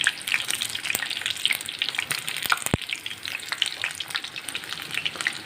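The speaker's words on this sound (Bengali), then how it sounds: "একটু লাল লাল করে ভালো করে ভেজে নেব বেসনটা দিয়ে" Pieces of taro coated in gram flour batter fry in hot oil, a steady close sizzle with bubbling crackle and a few sharp clinks of utensils, with no talk.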